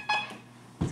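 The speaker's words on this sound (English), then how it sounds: "My alarm keeps going off." An alarm chirps in short electronic beeps, a bright tone near the start and another burst at the end, fairly faint and heard alone.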